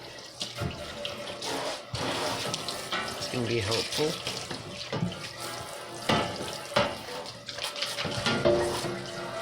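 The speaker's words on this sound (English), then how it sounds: "I got this little spray hose." A small spray hose rinses soapy water off an Amiga 2000 computer case, a steady hissing spray that runs throughout with short bursts and pauses, while a person speaks briefly over it.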